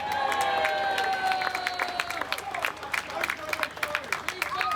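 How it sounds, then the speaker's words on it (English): Applause and cheering from a crowd at an outdoor St George's Day gathering as a man is called up on stage, claps building into a dense wash with sharper individual claps emerging toward the end, background chatter mixed in. "Give John a round of applause."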